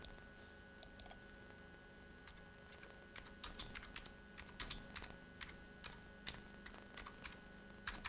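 Keys clatter on a computer keyboard in a Lego Dacta Control Lab software demonstration, with sparse clicks at first building into faster bursts of typing under a faint background hum.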